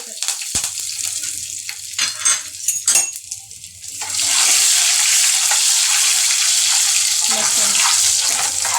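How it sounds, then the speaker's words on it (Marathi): Mustard seeds, cumin and red chilies sputter in hot oil for a dal tempering; scattered pops and clinks give way to a loud, steady, close sizzle once the spices hit the pan. "मोहरी चांगली तडतडलेली आहे, याच्यामध्ये आपण जिरे टाकून घेऊया।"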